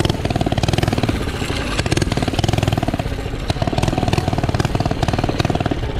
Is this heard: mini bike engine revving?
yes